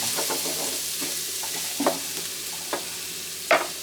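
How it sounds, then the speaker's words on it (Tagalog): Garlic sautéing in a pan for garlic fried rice, cooked until golden brown: a steady close hiss of frying oil with a few sharp clinks of a utensil stirring against the pan. "Ito po, nagigisa na siya ng bawang."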